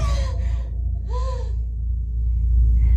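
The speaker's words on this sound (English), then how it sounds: "they've added in Carol's heavy breathing in the vacuum of space" Heavy, gasping breaths, two long drawn breaths with a pause between, over a steady low rumble, in a film scene set in the vacuum of space.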